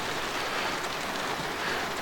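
Steady rain mixed with a little sleet falls outdoors at an off-grid camp, a dense even hiss with no pauses and no voices.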